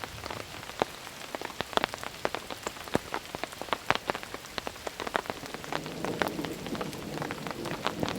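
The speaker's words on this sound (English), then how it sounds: "It's raining pretty good." Steady heavy rain patters on a nearby surface during storm camping, with individual drops ticking sharply and irregularly throughout; no voices.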